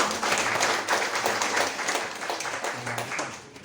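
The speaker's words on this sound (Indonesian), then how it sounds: "Boleh kasih tepuk tangan buat worship leader dan para musician boleh" Congregation applause for the worship leader and musicians at a Saturday church service, close, dense clapping that holds steady and then tapers off at the end.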